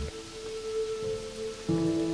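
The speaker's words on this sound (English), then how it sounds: "the fountain's gentle cascade becoming one with the sound of the rain" Rain falls in a steady, even patter of drops on a surface, with a soft background hum and no talking.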